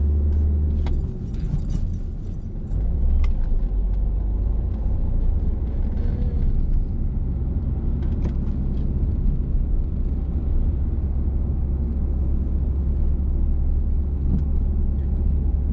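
A car pulls along in second gear during a driving lesson, its engine a steady low rumble with road noise throughout, a slight dip near the start, and no talk.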